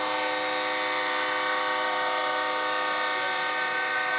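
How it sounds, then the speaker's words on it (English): A train horn blares as one long, steady, loud tone with rich harmonics, sustained without a break and heard by itself, near a high school football game between East Ascension and Sam Houston. "There goes that dang on train horn again."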